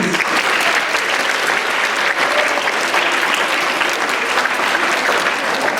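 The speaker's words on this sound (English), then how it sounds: "Can we give them a round of applause, please?" A school audience applauds dressed-up junior students at the grand opening of a junior ATB school, with dense, steady clapping from a crowd that stays loud for the whole stretch.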